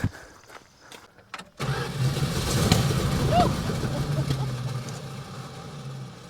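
A Plymouth Barracuda engine turns over on the starter without firing, no fuel reaching it, a steady close cranking drone after a few clicks, with voices talking briefly.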